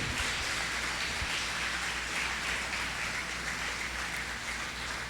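A church congregation applauds in a steady, even wash of clapping, fairly quiet and continuous, with no voices.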